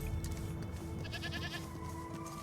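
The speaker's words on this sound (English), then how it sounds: "There's a goat." A goat in the video game Wuthering Waves gives a short wavering bleat, clear and close over a steady game soundtrack hum.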